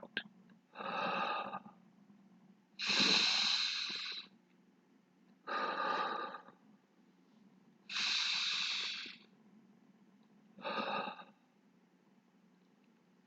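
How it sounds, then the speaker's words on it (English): A person breathing deeply, with five slow, close breaths alternating between nasal inhales and airy mouth exhales, each lasting about a second or more, separated by short quiet gaps. "we're going to take a deep breath in through the nose and then we're going to breathe out through the mouth"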